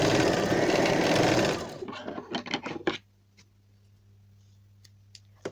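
A sewing machine stitches a hem on a kurti neckline, a fast loud whirring run for about two seconds, then a few slower stitches and clicks before it stops, with faint later taps.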